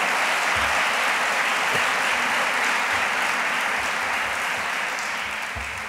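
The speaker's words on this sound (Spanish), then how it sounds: "Pido un aplauso para él." Sustained audience applause at a flamenco-themed Feria de la Manzanilla 2019 proclamation event, dense even clapping filling the room with no talking over it.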